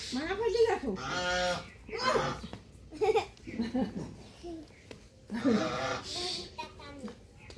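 Ducks quack in short honking bursts at a home, mixed with children talking and laughing close by throughout.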